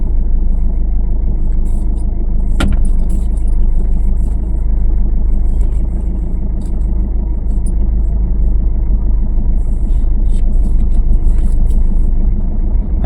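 A car pulling out during a driving lesson, a steady low engine drone and road rumble filling the cabin, loud and continuous, with occasional light rattles and faint clicks, no voices.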